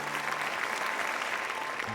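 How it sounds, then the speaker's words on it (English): An audience claps at the end of a children's play, a dense, continuous burst of applause from a crowd, steady and fairly loud for the whole short stretch. "At the end of the play, everyone clapped."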